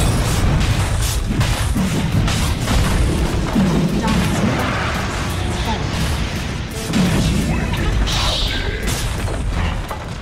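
In Dota 2, a barracks is destroyed amid a steady din of heavy booms, crashes and clanking impacts, loud and continuous, with voices mixed in.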